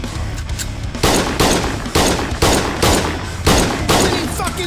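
Rapid gunfire in the video game Schedule 1 comes in loud bursts of repeated shots, roughly one volley per half second, over a constant background of game ambience.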